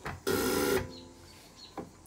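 A short, loud burst of hissing spray with a faint whine from a Land Rover Series 2A diesel injector nozzle on a pop tester, about half a second, followed by quiet and a brief softer puff near the end.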